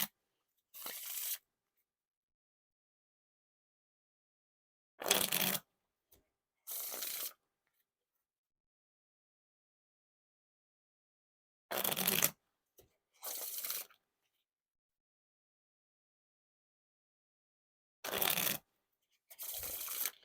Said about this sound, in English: the riffle shuffle test would help if I could actually get them to like riffle shuffle a few times